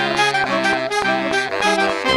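Horn section arrangement with every horn playing together over a pinned-down bass line: loud, full stacked brass chords striking in quick rhythmic hits.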